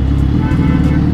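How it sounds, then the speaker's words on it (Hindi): Road traffic heard while riding through city streets, a loud, steady, dense rumble of engines and tyres with no breaks. "ये देखो यार निकलते ही ट्रैफिक मिल गया यार"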